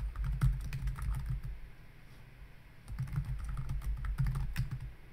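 Someone types a message on a computer keyboard. Quiet, close key clicks come in two bursts with a short pause between them.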